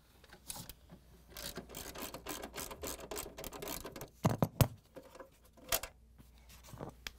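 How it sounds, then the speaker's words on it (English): A 1/2-inch socket wrench removes bolts from the bottom corners of a Whirlpool, KitchenAid or Maytag refrigerator cabinet, making quiet, intermittent ratcheting clicks and metallic rubs with a few sharper knocks. "I'm using a 1/2-inch socket wrench."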